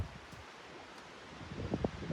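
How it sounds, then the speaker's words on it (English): Wind gusts building and buffeting a truck campsite tent with a sail-like awning during a freezing storm, faint rushing at first, then rising in a stronger, louder gust near the end. "you can actually hear the gusts coming"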